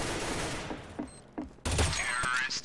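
Gunfire from the video game CS:GO: a scattered burst of shots, some sharp and distinct, ending in a louder, denser volley near the end, close and prominent.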